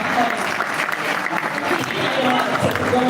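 Audience clapping at an event, a moderate crowd applauding steadily while a voice speaks over it.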